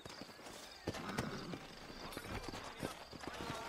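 Horse hooves clip-clop at a steady walking pace in the video game Red Dead Redemption, a set of moderately close, fairly quiet thuds over faint ambient background.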